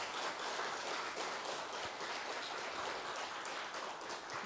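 An audience at a regular Buddhist dharma service applauds a senior monk, with a continuous wash of clapping from many people that sounds soft and distant.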